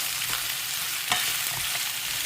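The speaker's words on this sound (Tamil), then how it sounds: "இஞ்சி, பூண்டு, பச்சை மிளகாய், இது எல்லாத்தையும் நல்லா வதக்கிடுங்க." Ginger, garlic, green chilli and large onion sautéing in a pan, close and continuous sizzling with light stirring scrapes, no voices.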